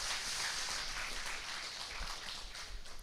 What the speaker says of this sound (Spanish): Denle un aplauso a Cristian,